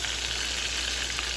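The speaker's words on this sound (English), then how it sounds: "Then we'll flip it over and fry the other side." Salisbury steak patties fry in a pan with a steady, even sizzle of hot grease, close and continuous with no talking.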